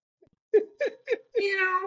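A man imitates a cat, giving three short meow-like syllables followed by a longer drawn-out meow, close and fairly loud, with no other talk during it.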